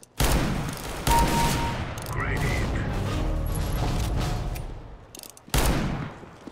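Revolver R8 shots ring out in the shooter game CS:GO. A few loud, sharp blasts are spaced seconds apart over a dense, noisy game mix, with mechanical clicks between them.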